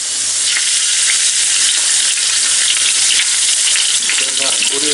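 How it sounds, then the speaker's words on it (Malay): Minced chicken fries in hot oil, a loud, dense, continuous sizzle heard up close throughout, with faint stirring and no speech over it. "Sebelum tu minyak kita pun dah panas. Kita nak goreng sedikit"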